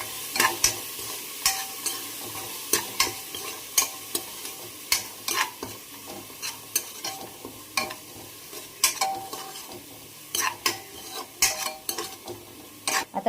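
Ginger, garlic and coriander paste frying with onions in a pan, a close bright sizzle punctuated by frequent sharp scrapes and taps of a spoon stirring against the metal.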